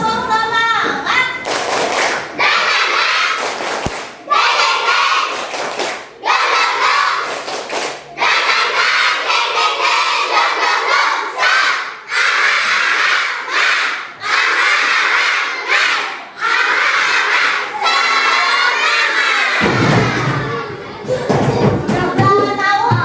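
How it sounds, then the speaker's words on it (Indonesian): Classroom of students doing a rhythmic spirit clap with shouted chants, loud and dense clapping and voices filling most of the stretch, then a brief quieter break before a final burst. "mari kita bertepuk semangat dulu"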